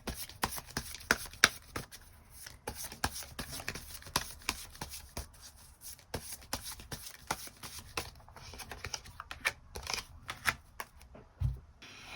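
Tarot cards are shuffled and drawn by hand, giving soft, close riffling flutters and irregular crisp snaps and taps, quiet throughout with no talking.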